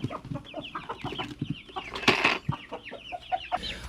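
A flock of chickens clucks and chatters busily at close range, overlapping rapid calls and squawks with one louder sharp squawk in the middle, no talking.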